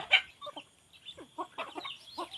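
Hens and chicks give soft, scattered clucks and high peeps with gaps between them, a sharper call opening the sequence, and nobody talking.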